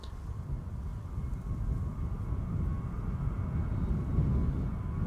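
A Finnair airliner departing Amsterdam Schiphol Airport gives off a steady, distant low rumble that builds slightly over a few seconds, with no voices.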